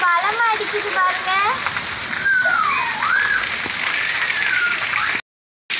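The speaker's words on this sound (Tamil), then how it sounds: "எவ்வளவு அழகா ஜில்லுன்னு மழை பெய்யுது பாருங்க" Heavy rain pours steadily in a thunderstorm with strong wind, a loud continuous wash of water nearby, with people talking over it.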